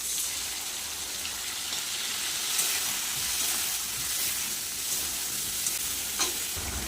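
Fried cauliflower and potatoes crackle steadily in a pan as a ground paste of cumin, coriander, dried red chilli and ginger goes in, a close, even hiss with a few faint clinks and a bump near the end.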